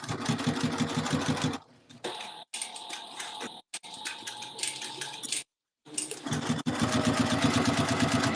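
A sewing machine rattles out rapid stitches on a crossbody bag pocket, starting and stopping in short bursts separated by fabric handling and brief silences, close and fairly loud.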